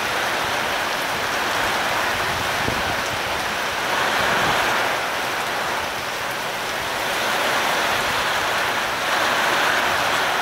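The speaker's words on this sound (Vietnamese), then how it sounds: "bữa nay mưa gió rồi các bạn ơi" Steady rain with gusting wind on a stormy day in the Mekong Delta countryside of Vietnam, a continuous broadband wash that swells and eases slightly, with no voices.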